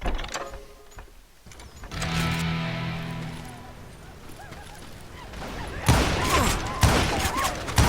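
Bursts of gunfire from the western shooter game Call of Juarez Gunslinger, sharp cracks clustered near the end amid shifting game sound effects and a tonal swell, at moderate level.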